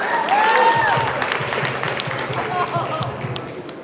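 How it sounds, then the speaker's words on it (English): A wedding reception crowd applauds with scattered clapping, while voices talk over it. "You can clap for yourself."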